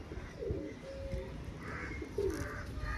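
Pigeons of a fancy breed coo softly nearby, a few low rolling calls rising over a quiet background with faint movement.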